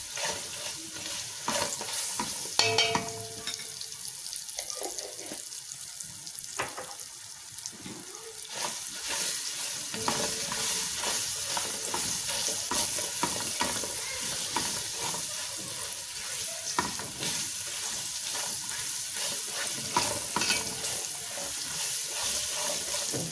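A spoon stirs black pepper and spices in a pot for Egyptian-style chicken mandi, giving a steady scraping and sizzling that runs continuously with no talk.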